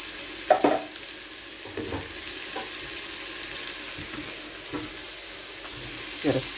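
A spoon stirs a pot of vegetable soup with diced tomatoes and added water, giving scattered scraping and clinking knocks over a steady sizzling simmer, with a louder clatter near the start and another near the end.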